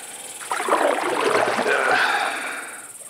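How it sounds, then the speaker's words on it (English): Boat wake splashes and washes against a hull on a river, one swelling burst of water noise lasting about two seconds beneath a steady high insect drone. "the wake of the boat splashing up against it."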